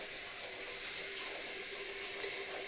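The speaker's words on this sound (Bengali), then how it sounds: "একবার দুবার ধুয়ে জলটা ফেলে দে" Water running steadily while something is washed before cooking rice, a constant close hiss and splash with no break and no talk.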